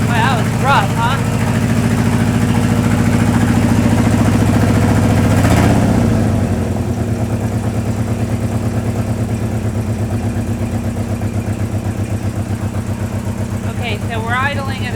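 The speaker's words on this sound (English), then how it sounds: "So we're idling at about 900, 950 RPM." A car engine idles at about 900–950 RPM with a steady low rumble throughout, slightly rough, with a brief louder bump midway and faint background sounds.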